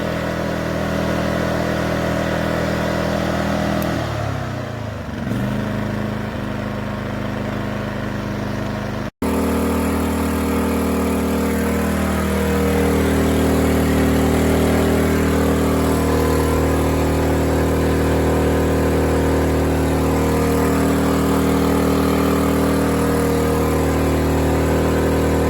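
A WEN 2350-watt inverter generator with eco mode off runs at a raised idle, a steady close motor hum with a brief drop and cutover before settling into an even, continuous drone.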